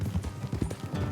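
Horse hooves clip-clop in a quick, steady rhythm at close range, loud and continuous throughout, in the video game Red Dead Redemption 2.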